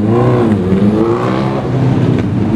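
A Toyota Supra sports car engine revs loudly and close by, its steady throaty drone carrying through the whole stretch with no talk over it.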